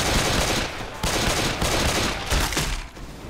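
Bursts of gunfire crack in the Left 4 Dead 2 video game, loud rapid machine-gun volleys with short gaps between them, close and continuous over several seconds.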